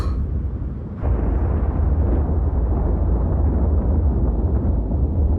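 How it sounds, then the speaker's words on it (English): Ultima bomb detonation in Final Fantasy Type-0 HD: a single massive blast that swells into a deep, sustained roaring rumble, loud and steady to the end. "Marshal Sid! It's an Ultima bomb!"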